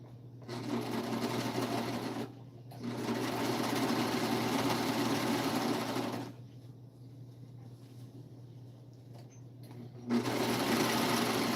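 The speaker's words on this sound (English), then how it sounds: "So I'm going to go ahead and serge the seams" A serger overlocks fabric seams with navy thread, its rapid motor whirring loud and steady in bursts of a few seconds, separated by brief pauses with only a low hum.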